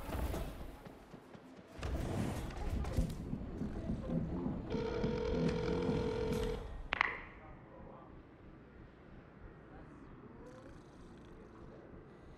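A telephone rings inside the Hitman game level A Modern Haven as a phone lure is set up, a short electronic ring standing out over game ambience and music before dropping back to quieter background.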